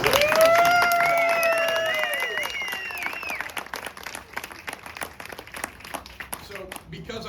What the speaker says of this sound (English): Can we give a round of applause to Gerhardt and Kelsey?